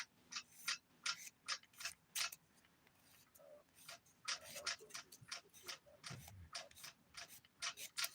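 Dip powder nail being filed with a nail file, a quick series of soft, close rasping strokes in short rhythmic bursts with a brief pause in the middle.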